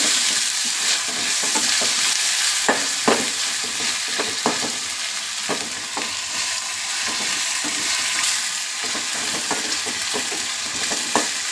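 Chopped tomatoes sizzle steadily in a hot pan for egg pulao, with a spoon scraping and stirring in irregular clicks and knocks, close and loud.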